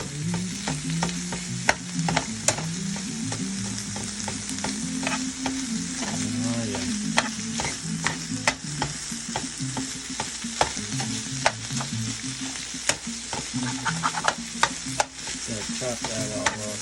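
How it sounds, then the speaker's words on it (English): Chicken fries in a pan with avocado oil and butter, a dense continuous sizzle close by with frequent scraping and clinking as it is stirred, and no talking. "We're going to take all that moisture out of here and the chicken's going to brown right up."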